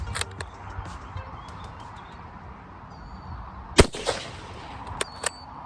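A single sharp rifle shot cracks out from a rifle firing Czech Považské Strojárne 8mm surplus ammunition, loud and close, followed by a few fainter clicks over quiet outdoor background.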